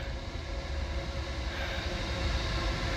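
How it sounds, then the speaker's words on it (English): A train passing at a distance, a steady low rumble and rolling roar that swells slightly toward the end, continuous and unbroken, with no voices. "it's just a train going past"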